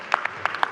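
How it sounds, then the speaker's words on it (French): Audience at a startup pitch event applauding the pitching startups, a short burst of a few scattered, distinct claps at moderate loudness, with faint voices murmuring underneath. "on peut les applaudir, toutes les startups qui ont pitché"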